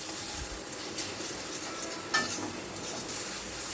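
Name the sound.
sautéing turmeric, coriander and cumin powder masala in pan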